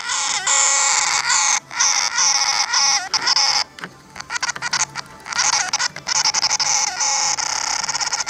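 Harsh, distorted synth tones from a Korg Monotron analog synthesizer with glitchy stutters and abrupt dropouts, loud and buzzy, playing alone without any voices.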